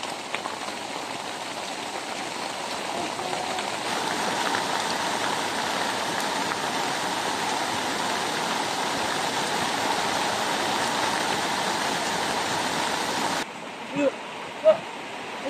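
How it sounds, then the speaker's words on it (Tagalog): Strong floodwater rushing past, a dense continuous roar of turbulent water, loud and near, steady for most of the stretch before cutting away to a quieter scene with a few brief sounds. "lakas ng baha"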